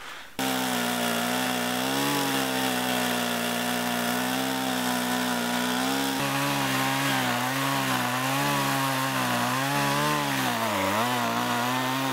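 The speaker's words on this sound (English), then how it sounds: "it's easy to make a straight cut with a chainsaw without a guide" A chainsaw cuts through lumber, ripping a log lengthwise freehand with no guide. The engine drones loud and steady close by for the whole stretch, its pitch wavering slightly as the chain bites into the wood.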